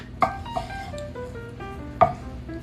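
A knife cuts through cooked Cajun chicken thighs on a board, giving three sharp, close cuts: two quick ones in a row, a pause, then a louder third over a faint room hum.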